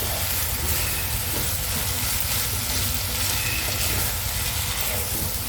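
Hyacinth bean and shrimp curry with nut paste and green chillies fries in a pan, giving a steady, even sizzling hiss that continues without a break and with no talk over it.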